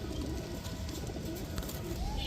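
High-flyer Giribaz pigeons coo in a soft, rounded, repeated murmur from a loft, fairly faint over a low background hum, with a few light chirps.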